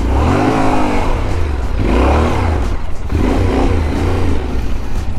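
A Yamaha Tenere 700cc motorcycle engine revs loudly and close on off-road terrain, in repeated rising and falling throttle blips over a deep, continuous rumble.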